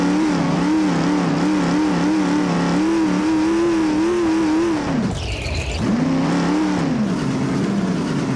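Car engine in the BeamNG driving game, loud and droning with wavering pitch as it revs. It briefly drops out and then returns, continuous and close, with no talking.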